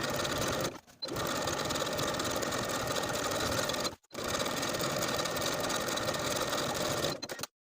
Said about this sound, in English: We're going to sew the uninterfaced waistband to the seam allowance, once again using a stretch stitch